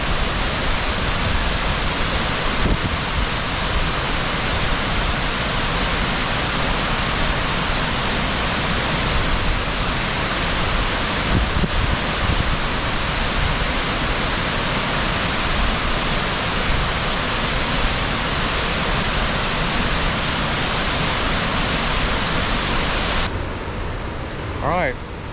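Western North Carolina waterfall roaring steadily up close, a dense unbroken rush of falling water that drops slightly near the end.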